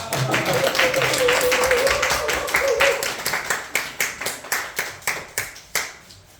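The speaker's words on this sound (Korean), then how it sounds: "격려의 박수로 모시겠습니다." Church congregation at a youth group testimony service claps, starting as a full burst of applause that thins into a single person's slower, distinct claps fading out near the end.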